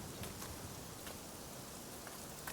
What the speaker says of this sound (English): Enjoy the sounds of the rain